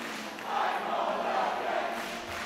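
Crowd noise at a GOTC MMA 18 fight, a steady roar of cheering and shouting that swells slightly and holds throughout at moderate distance, with no talk over it.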